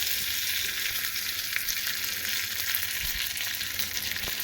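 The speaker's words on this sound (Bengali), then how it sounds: "পাতাগুলো দেখো কত সুন্দরভাবে ভাজা ভাজা হয়ে গেছে" Curry leaves fry in hot oil for a tadka, giving a steady, even sizzle close up with a few faint ticks and no talking.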